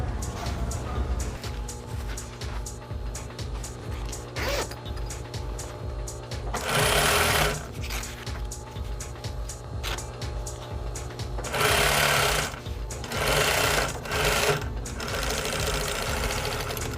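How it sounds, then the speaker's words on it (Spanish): A sewing machine stitches the seam of a fabric bag made from recycled cloth, running in a steady rapid whir with short louder bursts and pauses, close and clear. "Ahora tratamos de pespuntar el lado que hemos cosido."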